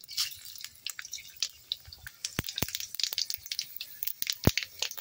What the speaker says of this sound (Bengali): এবার আমি ফোড়ন দিয়ে দেবো। ফোড়নে দেব তেজপাতা, শুকনো লঙ্কা ও পাঁচ ফোড়ন।